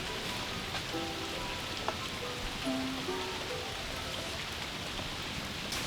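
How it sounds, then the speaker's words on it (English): Steady cold rain in Vancouver falls in a dense, even hiss, with a few scattered drips and faint tonal sounds over it; no voices. "Cold Vancouver rain."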